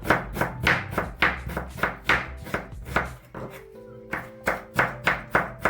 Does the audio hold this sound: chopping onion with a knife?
yes